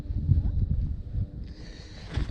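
Strong wind gusts buffet the microphone beside a reservoir on a bass fishing outing, a loud low rumble that surges and eases throughout, with a faint higher whoosh joining near the end and no talk.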